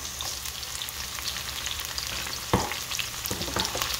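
Onion and scallion sautéing in hot oil for fried dumplings with bologna and sausage, a steady close sizzle and crackle with occasional stirring scrapes and a sharper clatter partway through.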